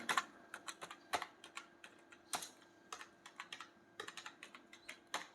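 Quiet typing on a computer keyboard, irregular bursts of crisp close keystrokes separated by short pauses, heard alone.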